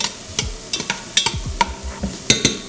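Onions tossed in hot oil in a pan, a close sizzle broken by repeated sharp scraping and stirring knocks at an irregular pace, fairly loud with no talking.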